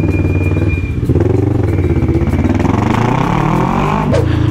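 Kawasaki Ninja motorcycle engine and exhaust revving loudly up close, a deep throbbing idle rising and falling through repeated throttle blips, with clatter and a little background voice.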